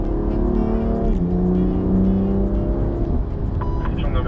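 A BMW M2 Competition's S55 engine roars close up, its pitch climbing as it accelerates, with a gear change and a steady growling exhaust.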